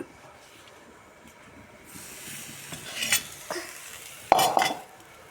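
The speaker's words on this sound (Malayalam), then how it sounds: "ചെമ്മീൻ കറി വെക്കുന്നത് തേങ്ങ കുറച്ച് എണ്ണ ചേർക്കാതെ വറുക്കുകയാണ്." Grated coconut dry-roasts in a pan without oil for a prawn curry, with a spoon scraping and stirring at intervals and a few sharper metal clanks that grow louder toward the end.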